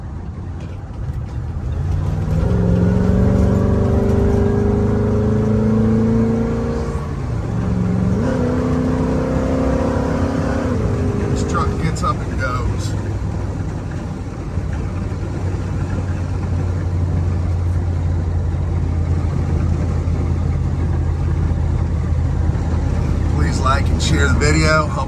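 A 1978 Ford F250 XLT Ranger Super Cab 4x4 Camper Special with a 460 cubic inch V8 accelerates hard, its engine note climbing through gears, then settles into a steady cruising drone, loud and close throughout.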